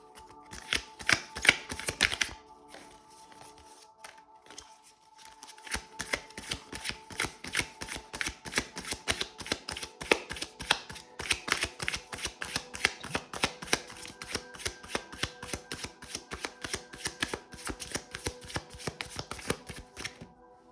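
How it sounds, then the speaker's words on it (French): A deck of oracle cards is shuffled again and again at close range, giving rapid riffling flutters and crisp slaps that repeat steadily for about twenty seconds, with a short pause near the start and no talking. "Je vais brasser une fois et ce qui va tomber, ça sera le message parce qu'il y a beaucoup de cartes."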